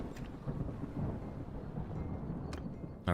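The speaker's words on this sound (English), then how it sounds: "There's just something so neat about the sound of thunder like that." Thunder in the video game Mount & Blade II: Bannerlord, a sustained low rumble over a rain-like hiss, steady and fairly loud throughout, with a brief sharper burst at the very end.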